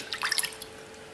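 Marmalade jelly for gluten-free Jaffa cakes pours in a short, soft liquid trickle with a few faint drips, close but quiet, then fading out.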